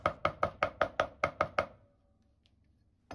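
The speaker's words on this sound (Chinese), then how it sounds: "這個呢一定要剁細一點，主要是讓這個蔥末能夠很好的吸附在每個雞肉條上" Scallions finely minced with a cleaver on a board, about nine quick, evenly spaced chops in a row, close and crisp, followed by near silence.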